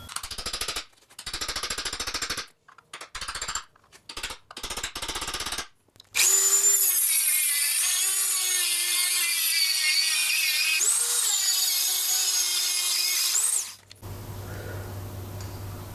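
A Dremel rotary tool with a cut-off disc starts in short stuttering bursts, then runs for a sustained whining grind with pitch shifts as it cuts before stopping abruptly.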